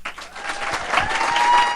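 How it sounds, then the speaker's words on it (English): Dense, steady applause from a graduation ceremony audience, filling the room at a fairly even level, with a few cheers and whistles rising through it and no clear talk on top. "can I have a big round of applause for everybody who made this journey possible"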